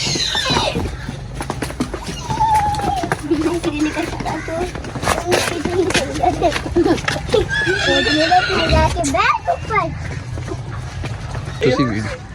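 A horse whinnies loudly amid hoof clops and people talking nearby, the neighs rising over a busy, noisy background.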